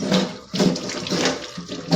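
Water running from a tap into a kitchen sink basin piled with used dishes, a close, splashing rush that surges and dips in uneven pulses.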